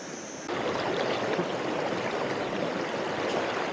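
A sudden rush of river water surges in at full strength after a brief quiet moment, a flash flood arriving during casting, steady and loud roaring throughout.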